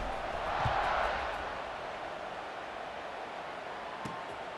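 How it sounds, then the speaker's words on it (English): Video game stadium crowd in College Football 26 during a Kansas vs BYU game, a broad buzzing roar that swells briefly near the start then settles into a steady even murmur. "this crowd is buzzing after that last score"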